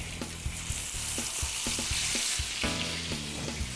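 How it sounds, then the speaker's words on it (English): Flour-dredged black-bellied rose fish searing in extra virgin olive oil in a sauté pan, a close steady hiss with rhythmic scraping and tapping knocks of a utensil against the pan, no talking. "dredge the fish in some flour on both sides, and we're going to sear it on one side"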